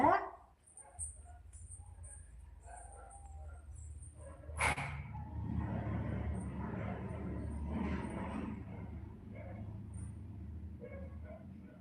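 A person's voice imitates a dog barking, with a sharp bark-like burst at the start and another midway, followed by a low, rumbling murmur of background noise.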